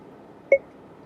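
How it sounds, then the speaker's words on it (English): A single short electronic beep from a vehicle's voice command system, clear and close, over faint background hiss. "You hear that beep?"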